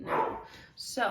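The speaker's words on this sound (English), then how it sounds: "if you hear my dog barking in the background," A dog barks a couple of quick yips behind someone speaking indoors, the barks short and fairly close, partly overlapping her voice.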